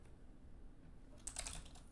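Keys clatter in a quick burst of typing on a computer keyboard, starting after a quiet stretch of faint room noise and continuing as a close, dense run of clicks to the end.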